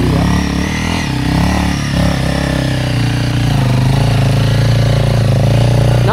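A Honda CRF 300 Rally dirt bike grinding up a steep grassy hill in second gear, its engine droning loud and steady right at the rider, with voices talking over the noise.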